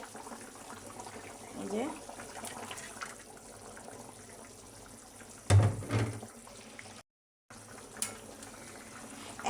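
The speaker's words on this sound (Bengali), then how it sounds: "এটা তরকারিতে বলক চলে আসছে।" A pot of vegetable and fish curry bubbles on a gas stove with a soft, steady burble and a few louder splashy moments, a brief voice speaking over it and a short dropout near the end.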